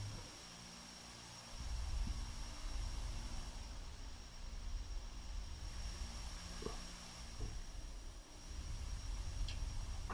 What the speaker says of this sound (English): Ricardo Volpe, the Twin Otter, is a really loud plane.